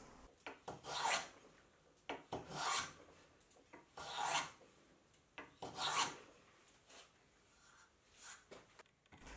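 A small handmade wooden hand plane shaves wood in repeated rasping strokes about every second and a half, each a short scraping burst followed by a brief pause, close up and fairly quiet.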